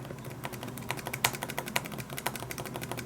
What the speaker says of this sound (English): So let's type the same key.